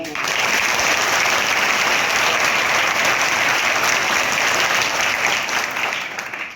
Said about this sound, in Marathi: जरा एंट्रीसाठी एकदा टाळ्या आणा